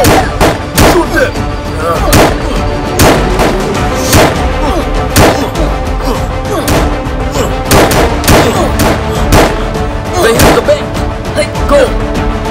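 Gunfire during a game-style police chase, sharp shots popping repeatedly across the whole stretch over a busy background of music and action noise, with no clear talk.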